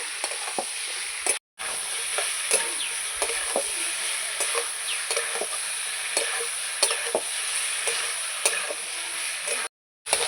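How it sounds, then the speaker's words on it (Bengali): Vegetables and spices sauté in a pan with a constant bright sizzle, while a spoon stirs and scrapes in frequent soft ticks and scratches; two brief dropouts break the sound. "সবজি আর মশলা একসঙ্গে কষাবো সময় নিয়ে একটু ভালো করে কষিয়ে নেব"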